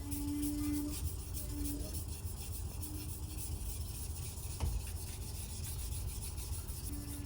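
A kitchen knife rubs rhythmically against a wet natural whetstone in a steady gritty scraping, close and fairly quiet, continuous throughout.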